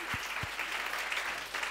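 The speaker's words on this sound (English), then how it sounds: "Let's give Jesus a very big clap." A church congregation claps for Jesus during a bilingual sermon, a brief patter of applause that stays fairly quiet and distant, preceded by a couple of sharp low thumps.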